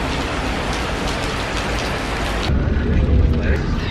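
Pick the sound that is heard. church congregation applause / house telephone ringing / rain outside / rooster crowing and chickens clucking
rain outside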